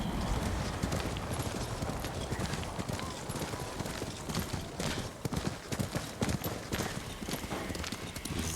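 Horse hooves clip-clopping in Ghost of Tsushima, a steady rapid run of hoof beats, close and fairly loud, with faint background ambience and no clear talk.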